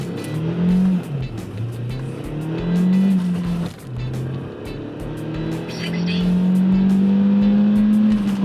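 A stock Audi A4 1.8T Quattro accelerating hard from a standstill to 100 km/h, its turbo four-cylinder droning loudly from inside the cabin with rising engine pitch and gear changes, steady and continuous throughout.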